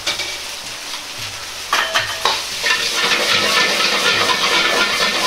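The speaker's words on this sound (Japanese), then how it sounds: "水分をしっかりと飛ばすようにして強火で炒めていきます。" Komatsuna and green onion stir-fried over high heat with ginger for tuna fried rice: a steady sizzle with scraping stirs, growing louder and busier partway through.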